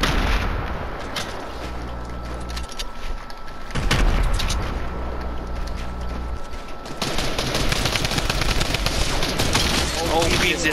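Heavy, continuous gunfire in a Fortnite scrim match, a loud dense rattle of shots with booming bursts that swells and stays intense throughout.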